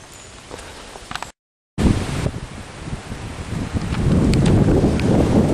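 Strong wind buffets the microphone on a countryside walk through woods near Denbigh, a loud, continuous roaring rush that briefly cuts out and then returns stronger, with no voices.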